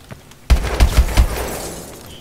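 Rapid bursts of futuristic gunfire in Call of Duty: Advanced Warfare, loud and close, with several sharp volleys over about a second before trailing into a decaying rumble.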